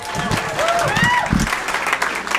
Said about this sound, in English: Give yourselves a big round of applause for coming out.